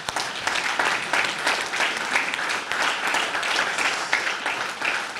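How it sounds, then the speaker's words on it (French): A crowd at an autocross event in Badefols-d'Ans gives sustained applause, dense steady clapping for about five seconds, with faint voices underneath. "Allez, on les applaudit."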